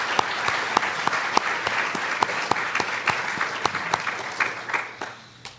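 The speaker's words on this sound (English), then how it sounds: "Can we give these two girls a round of applause?" Audience applause at a children's sports and concussions symposium, a steady wash of many hands clapping with sharp individual claps standing out, fading away near the end.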